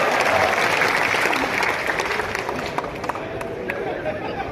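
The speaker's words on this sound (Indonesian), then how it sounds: "Tepuk tangan buat Indonesia" A crowd at a political party anniversary event claps loudly, dense applause with murmuring voices mixed in, gradually easing off.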